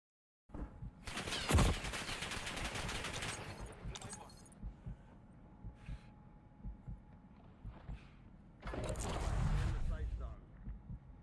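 Gunfire in the video game Rebirth Island, with bursts of rapid shots and a long rattling volley, moderately loud, mixed with quieter game sounds and a player's voice talking.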